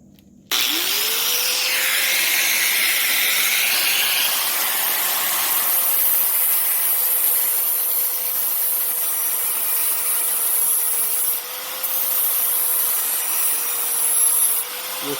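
An angle grinder sharpens a lawn mower blade clamped in a jig on a bench vise. It starts after a short pause and then runs as a loud, steady whine with a rough grinding hiss, dipping briefly near the end.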